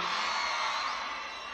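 Concert crowd at the São João festival show in Campina Grande yelling and whooping in a dense, sustained roar.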